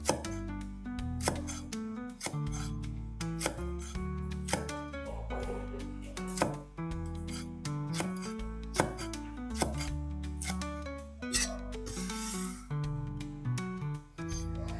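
Long green chili peppers are sliced on the slant on a cutting board, the knife striking the board in a quick, steady run of crisp chops, close and clear with no talking.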